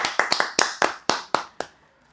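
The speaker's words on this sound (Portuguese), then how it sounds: "Uma salva de palmas para Eli." A brief smattering of hand claps from a few people, around nine sharp claps in quick succession that quickly die out.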